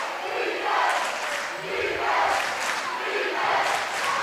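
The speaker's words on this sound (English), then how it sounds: "Intensity as high as ever as the Cougar crowd gets into a defense chant." Home basketball crowd of Cougar fans chanting a rhythmic defense cheer in a packed gym, loud swelling voices rising and falling in repeated waves.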